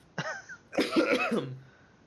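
A short cough followed by a longer, harsher coughing burst with throat clearing, close and fairly loud.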